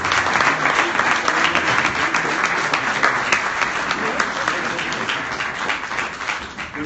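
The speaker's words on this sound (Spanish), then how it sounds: "un fuerte aplauso para ellos" A lecture-hall audience at a Dialogos Galileos discussion applauds its guest speakers with a dense, sustained round of clapping that holds steady and loud throughout.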